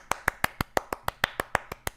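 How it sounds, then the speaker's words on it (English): A single pair of hands claps about a dozen times in an even, brisk rhythm, each sharp clap close and distinct with no voices. "I need to clap for you."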